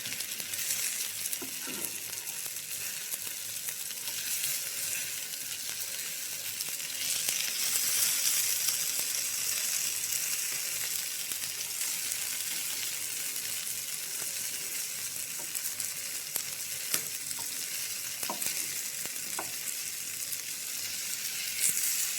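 Fish fries in a pan with a steady, moderately loud sizzle and crackle, broken by a few scraping stirs, close and continuous throughout with no voices.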